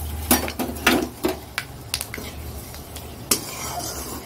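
Panch phoron whole spices dropped into hot oil in a wok after fish frying, with a soft sizzle under sharp metal clinks and scraping stirs, several distinct knocks in the first two seconds and another near the end.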